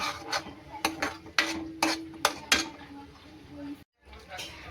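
Masala spices frying and being stirred in a pan over a low gas flame, heard as a steady soft sizzle broken by a series of short scraping strokes. A voice talks over much of it.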